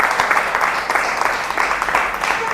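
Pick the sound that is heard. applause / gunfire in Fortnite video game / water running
applause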